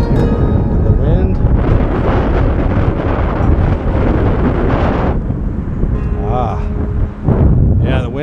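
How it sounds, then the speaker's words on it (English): Strong wind gusting across an open hillside during RC glider slope soaring, a loud continuous roar buffeting the microphone, with a brief lull and then a renewed blast near the end; a voice speaks over it. "Yeah, the wind is changing a little bit."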